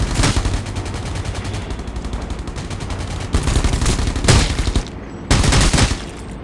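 Rapid automatic gunfire in a video game, dense bursts of shots rattling continuously with louder volleys near the end, close and loud with no talk.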